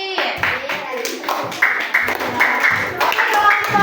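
Children clap together for a group in a classroom lesson, a steady patter of overlapping claps under a teacher's voice and classroom chatter.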